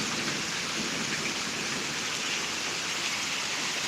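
Heavy thunderstorm rain in Pittsburg, Kansas pours down in a dense, steady roar that stays loud and constant throughout, with no voices.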